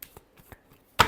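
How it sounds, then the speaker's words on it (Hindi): Tarot cards riffled and shuffled by hand, a few soft flicks building to one loud burst of cards snapping together at the end. "last shuffle"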